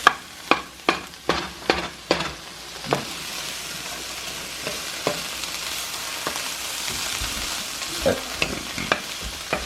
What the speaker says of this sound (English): I can do this and stir the pasta